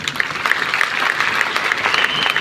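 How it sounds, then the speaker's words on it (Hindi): Audience applause at a live talk session, steady dense clapping that fills the whole stretch without a break, fairly loud and close, with a faint murmur beneath. "एक बार जोरदार तालियां इनके वर्ड्स के लिए"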